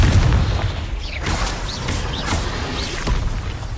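Blasting fire spell Confringo cast in the video game Hogwarts Legacy, a loud sustained boom with several sharp crackling bursts over dense rumbling game noise.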